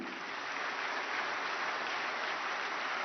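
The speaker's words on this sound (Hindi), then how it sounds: "सभी राष्ट्रीय पुरस्कार विजेताओं के लिए एक बार जोरदार तालियां" Sustained applause from a large audience at a national awards ceremony in Delhi, a steady dense roar of many hands clapping throughout, loud and continuous with no voices on top.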